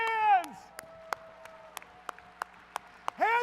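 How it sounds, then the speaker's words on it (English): Scattered single hand claps from an audience at a keynote event, sparse and irregular rather than a full round of applause, with a speaking voice calling out at the start and end. "Clap your hands."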